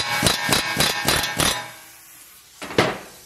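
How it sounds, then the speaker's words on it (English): Rapid pneumatic air hammer blows knocking out lug studs on a 2005–2015 Toyota Tacoma, a quick burst of about six loud hits, a pause, then one more sharp hit, close and harsh. "now I get to use one of my favorite tools in the universe, an air hammer"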